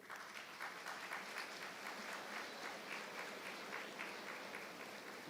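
Graduates at a graduation day ceremony give themselves a steady round of applause, a dense, continuous wash of many hands clapping throughout a large hall.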